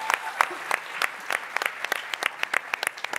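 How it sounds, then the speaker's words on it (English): An audience applauds a speaker at a debate design talk, a few seconds of scattered, rhythmic clapping from a small room, moderately close with distinct individual claps. "Please give Bridget a round of applause."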